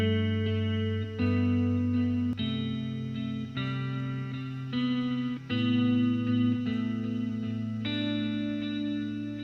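Guitar run through a Native Instruments Replica delay plugin set to quarter-note repeats, playing sustained chords that change every second or so, with echoes trailing each strum and a steady, full level throughout.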